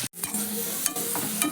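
Prawns sizzle and fry steadily in a pan with well-browned onions, a close, continuous crackle broken by a few stirring scrapes, with no talking.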